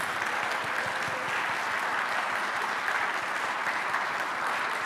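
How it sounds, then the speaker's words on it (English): An audience at a U.S. Senate Democratic primary debate applauds, a sustained, dense wash of clapping that holds at steady loudness throughout, with no voices over it. "Give yourselves a round of applause."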